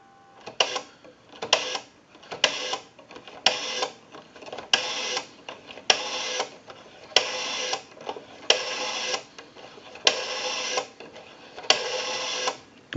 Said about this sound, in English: We have a nice smooth return on our rotary now.